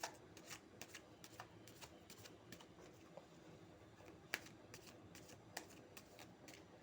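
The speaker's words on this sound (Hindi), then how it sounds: "कार्ड्स को मैं शफल कर लेती हूँ" Tarot cards being shuffled, a steady run of soft papery riffles and snaps with a few sharper clicks, close up and fairly quiet, with no voices.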